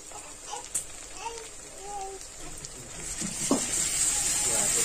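Onion fries in a pan as ginger garlic paste is added, giving a soft, steady sizzle that grows louder toward the end, with scattered stirring clinks and a voice speaking faintly.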